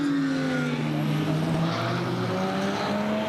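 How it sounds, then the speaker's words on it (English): Improved Production race cars at Hidden Valley, tyres chattering through turn five, with several engines droning and shifting pitch as cars pass through the corner, a steady loud roar with no talk. "the chatter of the Kenda tyres happens down at turn number 5"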